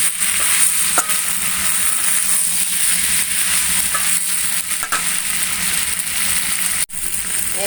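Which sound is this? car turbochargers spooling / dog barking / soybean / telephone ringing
soybean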